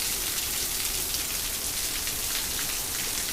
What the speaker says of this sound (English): This has to be a torrential downpour